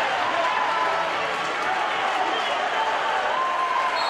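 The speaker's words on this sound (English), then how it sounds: "Fans of both sides are giving the applause." Basketball fans of both sides applaud after a dunk in a college game against Houston Baptist. The arena is filled with steady, moderately loud clapping and crowd noise throughout.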